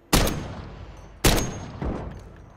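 Sniper rifle fire in the battle royale video game Warzone: three sharp, loud shots spaced about a second apart, each trailing off in a long echoing tail, the last one a bit softer.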